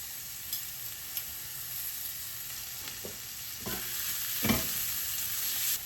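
Garlic and ginger frying in about a tablespoon of oil for mapo tofu, a soft steady sizzle with a few scraping stirs and taps, close and fairly quiet, no talking.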